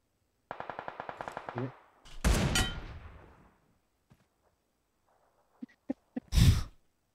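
Gunfire in the mobile shooter PUBG Mobile, with a rapid burst of about a dozen automatic shots followed by a loud blast, then a few sharp isolated cracks and one heavy final shot, with no talk over it.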